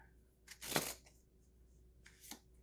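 Tarot cards are shuffled and drawn in two quick papery riffles, the first louder and longer, the second brief, close and soft in a quiet room.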